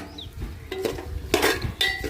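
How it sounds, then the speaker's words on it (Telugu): Onion and green chilli pieces tipped into a pan of fried chicken, giving a few close, sharp clattering hits and stirring scrapes in quick succession. "మనం ఉల్లిపాయ, పచ్చిమిరపకాయ ముక్కలు వేసేసుకుందాం"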